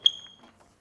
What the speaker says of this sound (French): c'est mon téléphone qui bip là, je dois l'éteindre, sinon ça ne s'arrêtera pas. C'est une alerte de glycémie.